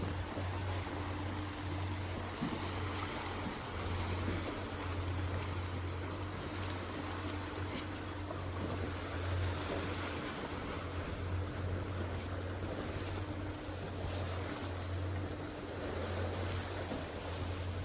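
Waves slap and churn on choppy open water during a 470 dinghy sailing race, a continuous rough wash with wind, over a steady low motor drone, and no talking.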